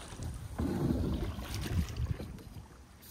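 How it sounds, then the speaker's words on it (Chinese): A small rowboat is rowed out from a backyard on shallow water, with a few soft splashing strokes close by amid wind buffeting the microphone. "就划着我们的小船出门啦。"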